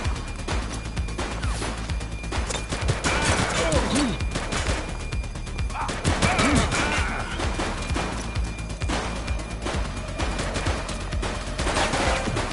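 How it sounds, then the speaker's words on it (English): Rapid bursts of gunfire crackle through a shootout in the police game The Precinct, dense volleys and single shots overlapping throughout, loud and close, with occasional shouted voices in the mix. "Light them up! He's shooting!"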